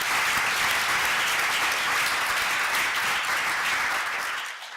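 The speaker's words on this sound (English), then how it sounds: "I really want to ask everybody to join me to give him a round of applause" An audience at a talk or meeting breaks into a dense, sustained round of applause that holds steady before tapering off at the very end, with no voices over it.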